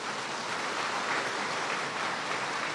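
Congregation at a Malayalam church service or prayer gathering clapping hands together in praise, a steady dense wash of many hands at even loudness throughout, with no speech over it.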